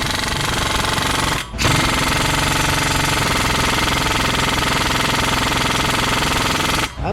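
Ingersoll Rand impact wrench hammering at a tight bolt in an auto shop, a loud, close, continuous rattling burst with two brief breaks.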